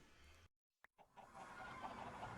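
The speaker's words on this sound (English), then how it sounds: "There aren't actually more chickens here, but I feel like there's more." Chickens cluck in a video game shopping area, a few soft clucks rising out of a steady ambient bed after a brief silent gap.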